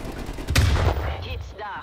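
A cruise missile strike in Call of Duty: Black Ops Cold War lands as one loud, booming explosion with a short rumbling tail, followed by fainter game effects.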